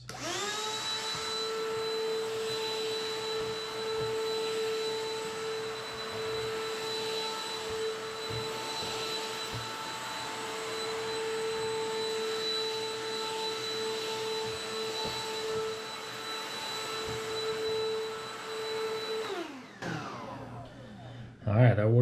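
A Black+Decker Dustbuster AdvancedClean cordless handheld vacuum runs with a steady, high-pitched motor whine for about twenty seconds, then shuts off, leaving faint handling noises.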